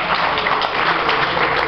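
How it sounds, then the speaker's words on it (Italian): An audience at a live book event claps together in a brief, steady burst of applause, even and fairly loud throughout. "L'applauso è cumulativo per tutti e tre, Taceta, Boraschi e anche Aiolfi."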